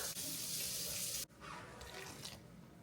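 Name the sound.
hot water being poured for flour dough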